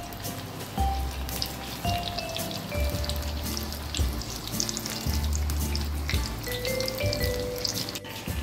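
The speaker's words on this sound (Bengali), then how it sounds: "এবার বেসনে ডুবিয়ে ভাজবো" Ash gourd spirals dipped in gram flour batter frying in hot oil, a steady crackling, bubbling sizzle with scattered pops, moderately close and fairly soft, without talk.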